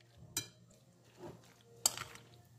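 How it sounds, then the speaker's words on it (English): Macaroni pasta salad is being mixed in a bowl, with a few faint, sparse clinks and scrapes of a utensil against the dish in an otherwise quiet room. "Then we give it a thorough mix again."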